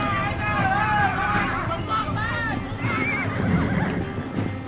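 Several horses whinny and neigh over pounding hooves and a murmur of crowd voices, busy and fairly close, during a game of Alaman Ulak, a rough horseback sport in Kyrgyzstan.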